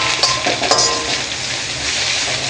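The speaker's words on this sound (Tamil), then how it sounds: "நல்லா ஃப்ரை ஆகட்டும்." Cabbage and other vegetables with a little salt frying over high flame in a pan for veg fried rice, with a steady close sizzle broken by stirring scrapes and light metal clinks.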